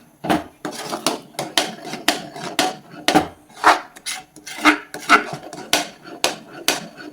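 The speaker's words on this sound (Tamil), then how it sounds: "கொஞ்சம் கொஞ்சமாக ஊற்றி நம்ம கிண்டிக்கலாங்க" A spoon scrapes and knocks rhythmically against a pan while fenugreek kali dough is stirred with sesame oil, about two loud strokes per second, close and clear with no talking.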